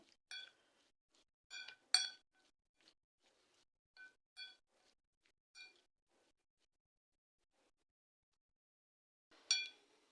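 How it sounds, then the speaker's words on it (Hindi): Salad ingredients dressed with lemon juice are tossed in a bowl, with a utensil striking the bowl in sparse, quiet clinks scattered across otherwise near silence. "अब हम इन तमाम चीज़ों को अच्छी तरह से मिक्स कर देंगे"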